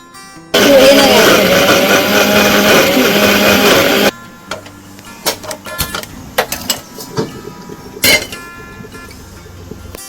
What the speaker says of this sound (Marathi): गरे मिक्सरला अगदी बारीक वाटून घ्यायचे